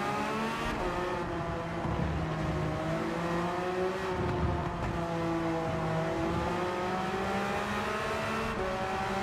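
A race car in Gran Turismo 7 drifts through a corner during a daily online race, its engine droning steadily with shifting pitch and tires squealing throughout, loud and continuous with no pauses.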